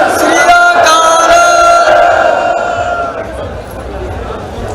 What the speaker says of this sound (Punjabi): ਇੱਕ ਜਕਾਰਾ ਲਾਉਂਗਾ, ਉੱਚੀ ਆਵਾਜ਼ ਦੇ ਵਿੱਚ ਜਵਾਬ ਦੇਣਾ, ਬੋਲੇ ਸੋ ਨਿਹਾਲ, ਸ੍ਰੀ ਅਕਾਲ।